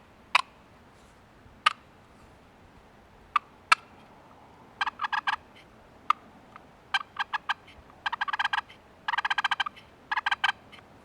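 A turkey box call imitates turkey clucking, starting with sharp single clucks spaced apart, then quick clusters of raspy yelps and clucks, close and crisp against a quiet background.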